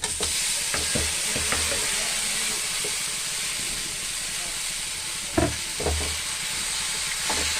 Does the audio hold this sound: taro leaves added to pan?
yes